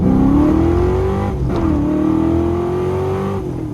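A 347 Foxbody Mustang Cobra accelerates hard through first gear, its engine rising to a loud, close roar. A brief dip marks the shift into second, then the revs climb again.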